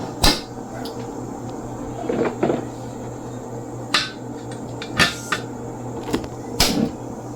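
A lid clatters onto a cooking pot of carabao meat with ginger, a few sharp metallic clinks and knocks spread across the moment over a steady low kitchen hum.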